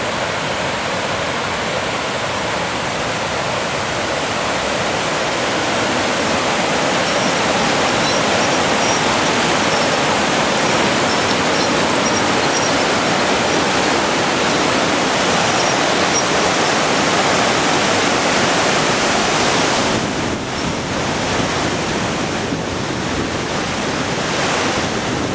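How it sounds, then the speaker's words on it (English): A river rushes steadily along the Chilkoot Trail, a loud, unbroken broadband roar of flowing water that stays constant throughout with no break. "We pulled off and sat down by the river out."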